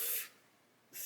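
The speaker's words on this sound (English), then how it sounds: "So I'm going to spray this using my airbrush." An airbrush sprays LP24 semi-gloss clear onto a 1/72 Airfix Hurricane Mk.1 model kit, with two short, close, soft hissing bursts and a quiet gap between them.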